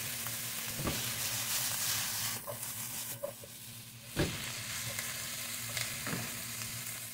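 Onions sauté in a pan with a continuous moderate sizzle. A few sharp scraping strokes of stirring cut through the hiss at intervals.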